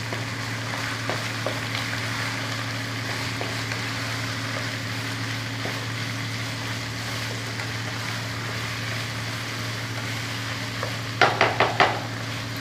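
Beef keema frying in a karahi with a low steady sizzle under a constant hum, then a few sharp scraping stirs near the end.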